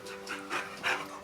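Dog panting in quick rhythmic breaths, fairly close and moderately loud, with household background noise and no talk over it.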